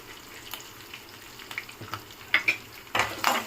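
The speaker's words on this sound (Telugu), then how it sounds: "కొంచెం లైట్గా వేగనిద్దాము ఇందులో కొంచెం ఇంగువ వేసుకుందాం" Curry leaves and asafoetida frying lightly in oil in a pan give a faint, steady sizzle. Soft spoon scrapes and a few clinks of stirring sharpen toward the end.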